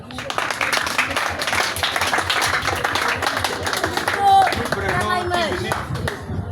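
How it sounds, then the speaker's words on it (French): Applause at a school proclamation ceremony, a dense crowd of hands clapping steadily throughout, fairly distant in a large space, with a few voices and shouts rising near the end. "Acclamons."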